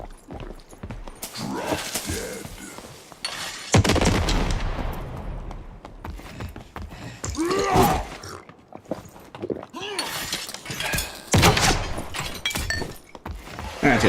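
An enemy shoots in a video game, sending out several sharp gunshot bursts with thuds and crashes among other action sounds, while a voice talks over much of it.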